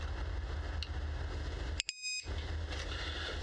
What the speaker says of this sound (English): Oh, it's got a beep.